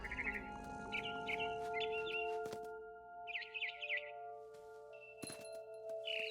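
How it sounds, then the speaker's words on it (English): Barn swallow chirping in the What Remains of Edith Finch game, bursts of bright twittering calls over sustained background tones and a few sharp clicks, with no speech. "Then I heard chirping outside my window. It was a barn swallow going back to her nest."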